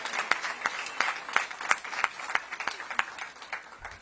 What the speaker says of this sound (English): let's give Mayor Muriel Bowser a round of applause